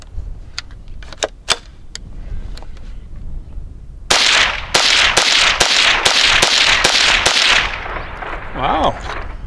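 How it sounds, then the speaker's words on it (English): A Henry AR-7 survival rifle fires Federal Punch rounds in a quick series of about eight sharp, loud, evenly spaced shots. Softer clicks and handling noises come before the shots. "I have some Federal Punch. And I don't have too many rounds of this, so I'm only going to fire 8 rounds."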